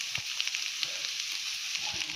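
Egg fried rice sizzling in a hot pan, an even hiss dotted with small pops and crackles, close and alone.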